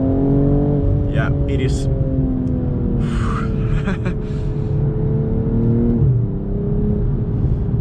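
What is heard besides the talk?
BMW M240i xDrive engine accelerating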